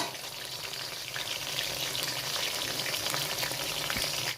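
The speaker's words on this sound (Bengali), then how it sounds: "এই দেখুন, এরকম করে ভাজা করতে হবে।" Chicken pieces fry in a pan for chilli chicken, a dense, continuous close-up sizzle with light crackling and no voices.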